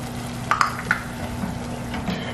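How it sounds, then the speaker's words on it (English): Italian wine hits a pan of hot sauce for meatballs, giving a brief sizzle with a few sharp clinks near the start, then a steady low bubbling hiss to the end. "So now we're gonna go ahead and add 1 cup of Italian wine."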